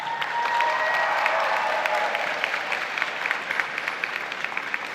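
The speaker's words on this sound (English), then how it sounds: "give those people a big round of" A high school graduation audience applauds the class of 2022, with steady crowd clapping that gradually thins into scattered claps.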